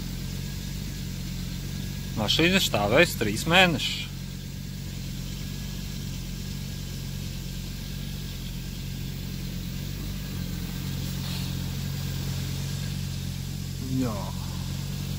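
An Audi 200 20vt engine idles after a cold start in minus 16 degree frost. It is a steady, low, even rumble throughout, with a voice briefly talking over it early on.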